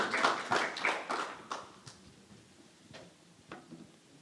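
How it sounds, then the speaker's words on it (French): An audience applauding the contestants at a regional sales-excellence competition finale, a burst of quick claps that thins out into a few scattered, faint claps before fading to near silence. "On les applaudit très fort."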